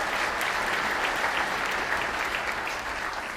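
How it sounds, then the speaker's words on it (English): Room full of people gives a steady round of applause for an honoured runner named athlete of the year, even and sustained with no talking over it. "Big round of applause for Donna."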